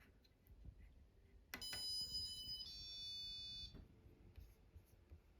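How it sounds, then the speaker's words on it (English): An electronic buzzer sounds a steady high-pitched tone for about two seconds, shifting pitch partway through, over a quiet background hum. "A sound will come from the buzzer"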